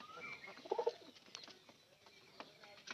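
Pigeons coo faintly around a coop, with a brief cluster of soft calls near the start followed by quieter distant bird sounds.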